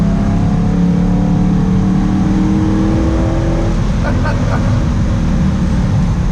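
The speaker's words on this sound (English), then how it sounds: "the sound that engine makes when you flip it" A 1974 Alfa Romeo Montreal sports car engine drones steadily at close range, its low rumble rising and falling as it revs, with a brief higher mechanical whine near the end.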